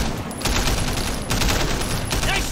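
Assault rifle fire in the game Sleeping Dogs: loud, close bursts of rapid automatic shots in two or three rolling volleys, dense and continuous.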